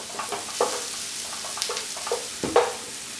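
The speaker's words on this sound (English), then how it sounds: "Cook it all together, get that rawness out of that garlic and that ginger whilst we're cooking the" Onions with garlic and ginger paste fry in a pan for a chicken curry pie filling, a soft sizzle broken by several scraping stirs spaced through the clip, close and moderately quiet with no talking.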